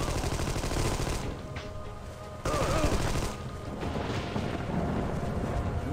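Gunfire in the video game Armed & Dangerous, a sustained rattle of shots with a sharp, louder burst midway, continuing steadily at moderate volume beneath brief faint voices.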